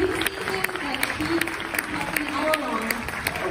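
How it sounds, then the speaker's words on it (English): Audience applause at a medical student talent show, a steady patter of clapping from the crowd running under an announcer's amplified voice. "A round of applause for this morning."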